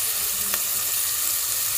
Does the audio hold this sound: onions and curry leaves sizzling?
yes